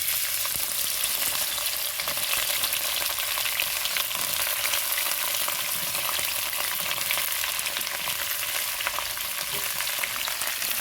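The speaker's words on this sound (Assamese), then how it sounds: "এতিয়া মই এইখিনি অকণমান ফ্ৰাই কৰি ল'ম।" Ingredients fry in hot oil in a wok, a steady, dense sizzle with a bright crackle that stays loud and unbroken throughout, with no voices.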